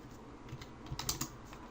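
Typing on a computer keyboard: a short run of quiet, close keystrokes in an irregular rhythm, clustering a little more densely toward the middle, with no voices.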